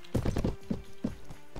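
Horse hooves clip-clop on the ground in the video game Mount and Blade: Warband, a close, irregular run of several sharp hoof strikes followed by a few spaced single steps.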